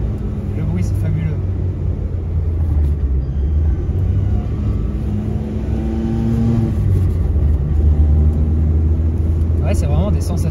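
Loud, rough rumble of a 1979 Peugeot 104 ZS2 carburetted engine from inside the car, revving and droning steadily, with people talking over it.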